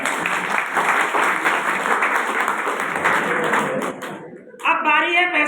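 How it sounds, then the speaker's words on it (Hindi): Audience in a hall bursting into sustained loud applause for about four seconds, dense clapping that fades and gives way to a voice. "आपके लिए जोरदार तालियां"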